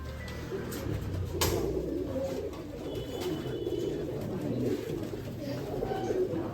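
Pigeons at a busy city pigeon market coo steadily in low, overlapping murmurs, with occasional wing flutters and faint crowd noise behind them and no clear talk.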